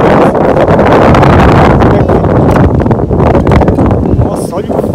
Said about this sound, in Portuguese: Nossa, olha o vento, cara.